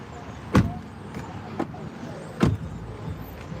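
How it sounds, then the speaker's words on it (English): A car door slams shut twice in a noisy outdoor setting, each a sharp, close thud separated by about two seconds, with a softer knock between them. "let me close the door"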